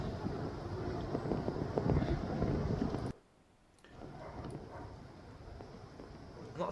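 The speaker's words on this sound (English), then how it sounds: "Does sound a little bit windy, doesn't it?" Wind buffets and roars into the microphone outdoors for about three seconds, drops briefly to near quiet, then returns as a steadier, softer rush.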